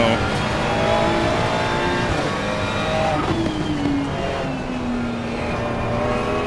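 A turbocharged Ferrari race car engine in a racing video game at Monza drones loudly and steadily, its pitch sliding up and down through gear changes, while a person talks over it.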